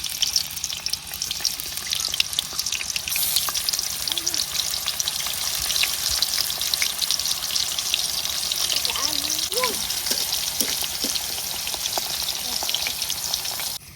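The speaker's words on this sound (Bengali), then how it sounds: "আমার তেল কিন্তু গরম হয়ে গেছে, এখন আমি একটা একটা করে চিপস দিয়ে দেব" Potato chips, dropped one by one into medium-hot oil, fry with a steady, dense crackling sizzle that runs unbroken throughout, up close with a faint watery hiss underneath.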